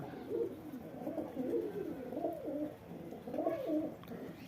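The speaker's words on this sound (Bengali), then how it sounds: "এই সাদা পায়রাটা যেটা গলা খাচ্ছে গলাতে ছিট লাল আছে পায়রাটা আমার অনেক পুরনো পায়রা গিরিবাজ পায়রা" Giribaz pigeons in a pigeon house give soft, rolling coos in repeated bursts, fairly quiet and close, with no voices over them.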